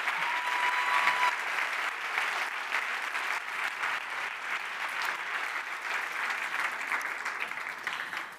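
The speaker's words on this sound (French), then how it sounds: "je pense qu'il et elle méritent tous vos applaudissements." Audience applause at a science-communication competition final, a dense, continuous round of clapping from a large hall crowd, loud and sustained for several seconds.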